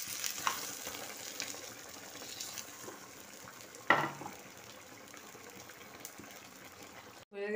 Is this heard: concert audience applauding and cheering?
no